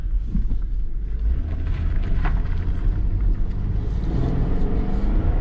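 A 2005 Kia Sportage engine held in first gear, revving with a steady, loud low drone that stays constant throughout, with wind buffeting the microphone and no talk.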